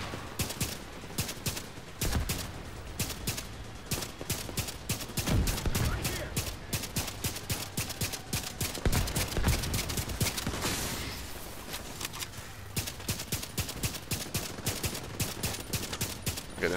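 Rapid automatic gunfire during a video game raid, dense bursts of shots crackling almost without pause, loud and close, with muffled voices underneath.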